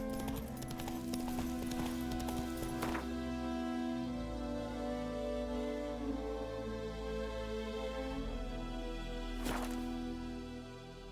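Roach, the horse in The Witcher 3, gallops with a quick, steady clip-clop of hooves over about eleven seconds, set against a constant game soundscape, with a couple of sharp louder impacts.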